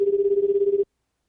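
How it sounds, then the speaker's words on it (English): A single short telephone ring tone sounds, a steady warbling electronic buzz lasting under a second before cutting to silence. "Let's get them on the phone."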